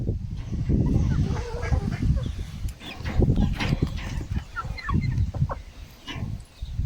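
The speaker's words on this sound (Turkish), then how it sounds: "Bak çili horoz da geliyor bak." Chickens clucking steadily close by, with a speckled rooster among them and scattered bird calls over a busy farmyard background.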